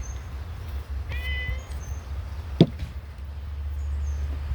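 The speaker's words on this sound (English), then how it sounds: "Here comes my kitty." A single faint cat meow rises in the background over a steady low hum, followed shortly by a sharp click.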